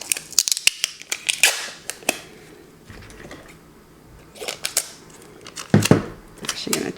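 Scissors trim Tyvek tape on a cardboard book box, giving quick clusters of crisp snipping cuts, then a pause and more bursts of close, sharp snips.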